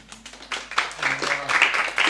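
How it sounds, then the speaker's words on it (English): Audience clapping for the musicians at a Sunday mantra room gathering in Melbourne, a short burst of hand claps that swells and grows denser, with a voice heard over it. "come on, give him a clap"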